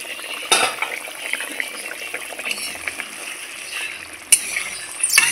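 Katla fish curry with green chilli and mango cooks in a pot, a faint bubbling and sizzle with scattered stirring clinks and a couple of sharper clatters, close by.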